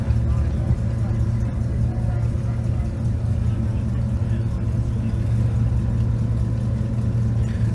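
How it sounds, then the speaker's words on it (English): A Chevy Impala at a low-and-slow car cruise gives off a steady, low engine rumble that hums evenly and close by for the whole stretch without revving. "Chevy Impala in front of us."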